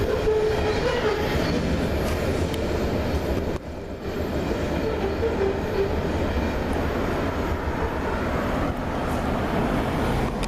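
A CSX freight train races past at speed on the Trenton Subdivision main line, a loud, steady rumble and rattle of wagons filling the whole stretch without a break.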